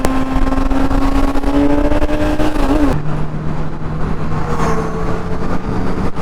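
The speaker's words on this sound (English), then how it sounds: "There's a S1000RR. Oh my lord, that's loud." A group of superbikes, including a loud BMW S1000RR, riding past on a road toward Yercaud: a continuous roar of engines, with a sharp pitch drop halfway through as one machine passes close, followed by a lower droning engine note.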